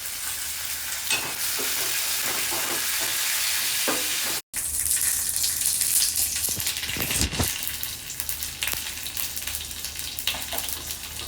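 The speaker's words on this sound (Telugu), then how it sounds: "ఇక్కడ కొంచెం నూనె వేసుకున్నాను, కొంచెం ఆవాలు, కొంచెం జీలకర్ర, మినప్పప్పు, కరివేపాకు" Mustard seeds, cumin, urad dal and curry leaves crackle and sizzle in hot oil, a dense, even frying hiss that fills the whole stretch with one brief break midway.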